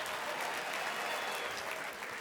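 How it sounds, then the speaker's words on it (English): Audience clapping at a stand-up comedy show, a dense, steady wash of applause filling the whole moment at even loudness with no voice over it. "Some of you are clapping"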